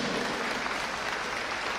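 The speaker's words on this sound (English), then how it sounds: "Everyone, a big round of applause for the presentation." Audience applause at a state-level Chief Minister's youth engagement program, a steady dense clapping from a sizable crowd that fills the whole short stretch without any talk over it.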